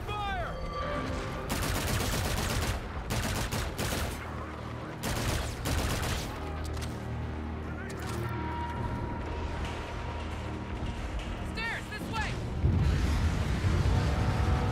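Dense automatic gunfire and explosions from the video game Call of Duty: Infinite Warfare, rapid bursts and heavy blasts in a chaotic street battle, continuous and fairly loud with brief gaps.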